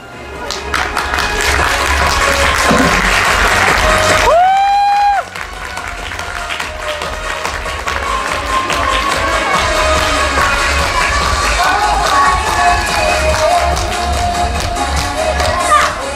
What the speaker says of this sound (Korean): 막이 전부 열릴 때까지 우리 박수로 우리 친구들을 맞이하겠습니다